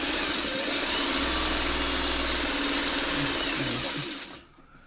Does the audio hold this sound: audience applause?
no